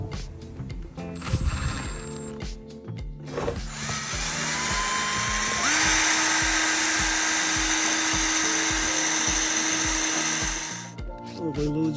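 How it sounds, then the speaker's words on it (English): A power drill whines steadily at high speed as it bores holes for a plastic rear door cover on a Mitsubishi Delica L400, with rhythmic thumping underneath and the motor winding down at the end. "Drill out the holes, do the tapping."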